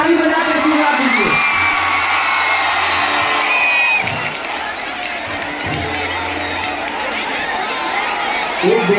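A crowd cheers and whoops at a Bhojpuri stage show in Kolkata. The loud roar of many voices continues for several seconds and mixes with shouting, and someone speaks over the noise.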